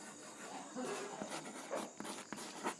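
Pen or chalk strokes scratch faintly and close by during a Class 10 geometry lesson on triangles, a few short irregular strokes of handwriting with no talk.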